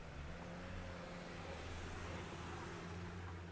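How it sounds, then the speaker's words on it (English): A large moving truck rumbles past at close range, its low engine drone and road noise steady and loud throughout with no voices. "Another moving truck."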